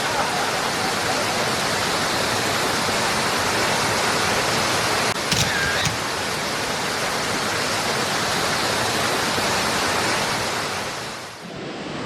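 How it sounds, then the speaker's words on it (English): A continuous roar from a small waterfall at Hanging Lake, Colorado fills the scene, close and steady, with a brief faint tone midway before it tapers at the end. "It just cried all the way and just a tiny waterfall."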